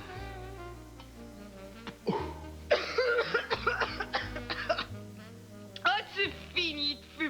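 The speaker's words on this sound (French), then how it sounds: "Ça me fait tousser." A man coughs in a French-language TV comedy sketch about the flu, with harsh hacking bursts mixed among music and voices from the scene.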